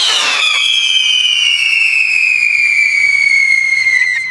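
A firework piece is lit and shoots upward with a loud, sustained whistling screech that slowly falls in pitch over about four seconds before cutting off, alone with no talk.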